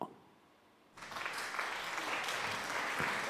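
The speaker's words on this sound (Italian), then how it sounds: "questo applauso è per voi" Applause breaks out suddenly after a quiet moment and continues as a dense, steady clapping that holds at a moderate level to the end.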